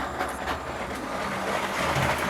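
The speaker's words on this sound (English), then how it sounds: "As always, while we're here and there is a train track, let's get that train going." A Lego toy train runs around its track on a built display, giving a steady, continuous rolling rumble with faint rattling that stays fairly even for the whole stretch, with no voices over it.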